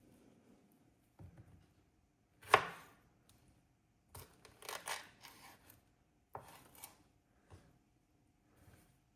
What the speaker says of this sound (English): Slice that okra up.